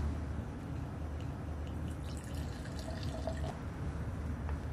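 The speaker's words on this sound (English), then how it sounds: "pour your cheap whiskey, your cheap wine, into the middle" Cheap whiskey or wine is poured into a glass as a faint, steady trickle of liquid, continuous and quiet with a few light drips, and no talking.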